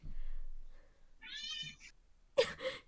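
A cat meows clearly once, high and close, after a quiet stretch with faint murmuring, followed by a brief sharp sound.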